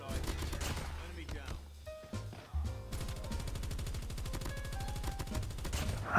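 Rapid automatic gunfire in the mobile shooter Call of Duty Mobile, a fast sustained burst of shots running for several seconds amid game sounds and a busy mix.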